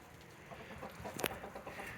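Chickens cluck softly in a backyard area, with a rooster among them. The short, irregular clucks sound faint and somewhat distant, and there is no talking.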